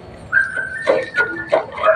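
A six-month-old chow chow puppy being fed vegetables lets out a string of high yips and thin whimpers, close and fairly loud, in short uneven bursts over a quiet background.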